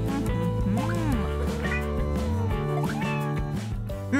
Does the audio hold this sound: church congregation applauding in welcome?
no